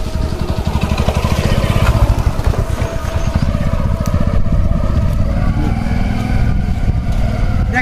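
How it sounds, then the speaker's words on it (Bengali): A motorcycle passes along a dusty, rough village road in Jhenaidah, its engine chugging in a loud rapid pulse close by, then fading slightly as it moves on. "একটা সিম্পল মোটর সাইকেল গেল প্রচুর পরিমাণ ধুলো উড়াইলো"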